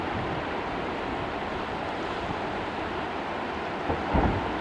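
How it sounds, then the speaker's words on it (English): Glacier ice calving into water at Child's Glacier, heard as a continuous broad rush of churning water and waves with a low thump near the end, steady and fairly loud, no talk. "There's just this huge bubbling of ice now in the water."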